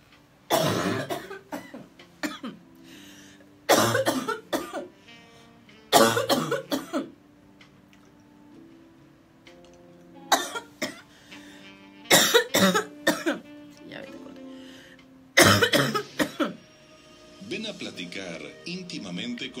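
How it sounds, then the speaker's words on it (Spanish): Repeated coughing fits break out in loud clustered bursts separated by quieter gaps, with some speech in between. "hemos presenciado muchos ataques de tos"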